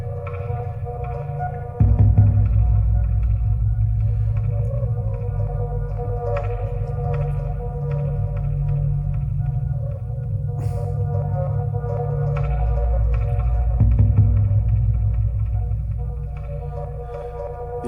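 Slow, sustained ambient drone from an Octatrack MKII sampler, washed in reverb, with layered tonal pads and a soft low rumble holding steady throughout, a subtle swell near the start and faint scattered clicks above.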